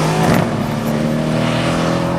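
A Mercedes-AMG C 63 S engine and exhaust roar loudly up close, with a throaty surge near the start settling into a sustained, humming drone.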